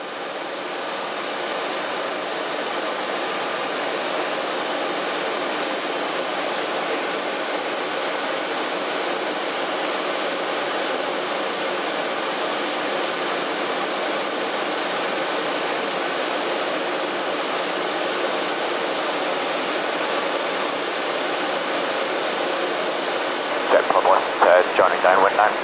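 Jet Provost JP5 jet trainer in flight, heard from the cockpit: a loud, steady, continuous engine roar and whine that holds unchanged for the whole stretch, with a slight shift only near the end.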